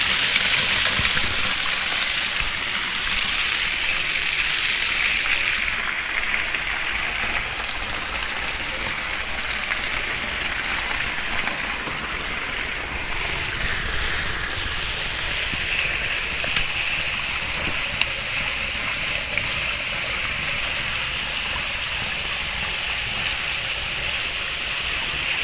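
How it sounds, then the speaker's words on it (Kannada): A clear stream runs at Rama Thirtha in Honnavar, its water rushing in a steady, loud, broadband wash that holds evenly from start to finish with no voices. "ಈ ನೀರಿನ ಸದ್ದು ಬಿಟ್ಟರೆ ಬೇರೆ ಯಾವ ಸದ್ದು ಕೇಳ್ತಾನೆ ಇಲ್ಲ ನೋಡಿ"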